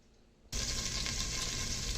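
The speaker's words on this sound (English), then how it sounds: "a little bit of canola oil and some garlic going in a pot on medium heat on the stove" Garlic hits hot canola oil in a pot on a stove over medium heat and sets off a sudden, steady, bright sizzle that carries on without a break after a brief quiet moment.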